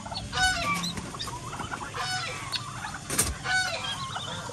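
Green parrots squawking and fighting, a busy jumble of harsh, overlapping shrieks and chattering calls at close range, with a sharp loud squawk burst near the end.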